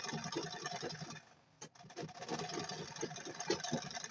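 A sewing machine stitches through a welt pocket on a garment with a steady, rapid mechanical whirr, briefly stopping partway before running on again; no one speaks.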